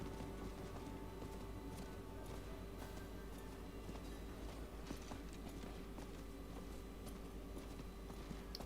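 Horse hooves clip-clop in the video game Diablo IV, a quiet, steady trotting rhythm that runs throughout.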